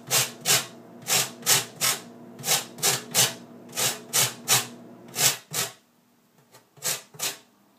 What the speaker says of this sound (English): Next you want to zest your limes.